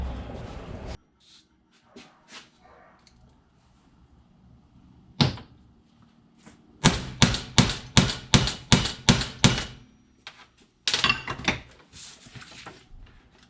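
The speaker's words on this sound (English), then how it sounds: "Get a hammer, and then we're gonna hammer them out." Metal hammer blows ring out in a steady burst of about eight sharp strikes on a socket, hammering parts out while building a transmission mount, then a few more after a pause, close by with quiet handling noises between.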